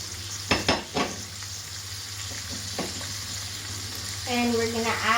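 Salmon sears in a pan with apple cider vinegar, giving a steady close sizzle broken by a few sharp utensil knocks, with a short burst of voice near the end.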